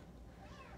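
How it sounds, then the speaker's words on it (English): Cats meow in a shelter cat room, a faint, brief cry or two in a busy, noisy room, with no talking heard. "Duncan and Donut causing a fuss up in this cat room"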